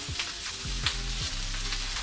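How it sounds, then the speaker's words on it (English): Shallots dropped onto seared mushrooms in a hot pan, giving a brief steady sizzle with a few light knocks of the utensil, alone and without talk. "We get a nice sear, we're gonna add our shallots."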